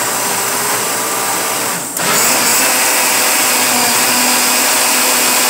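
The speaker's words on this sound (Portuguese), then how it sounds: "Aí é só passar aqui no liquidificador." A kitchen blender runs steadily, blending a garlic and lime marinade for sun-dried beef, a loud continuous motor whir with a brief dip near the two-second mark before resuming at full strength.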